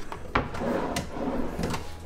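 A hotel room drawer at a Universal resort slides open or shut with a soft wooden scrape and a couple of light knocks, quiet and close in a calm room.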